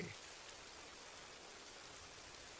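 Cartoon rain falls as a steady, soft hiss of drops, an even wash of sound heard alone and very quiet throughout.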